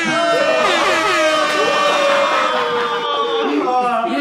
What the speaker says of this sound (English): I'm literally going to insert the Jamaican air horn right here.